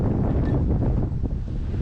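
Gusty wind buffets the microphone with a low, roaring rumble throughout, loud and close, with no voices, beside a cabover Aerodyne truck.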